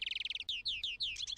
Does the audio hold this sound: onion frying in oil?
no